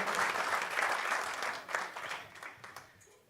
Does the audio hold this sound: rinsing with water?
no